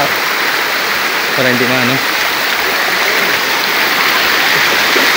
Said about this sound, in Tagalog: Fresh water pala dito mga kabads. Galing bundok na tubig.